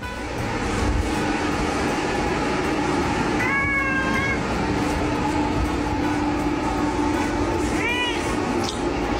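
A cat meows back twice, two short rising-falling calls several seconds apart, heard over a loud steady rumbling background like a moving train or metro carriage.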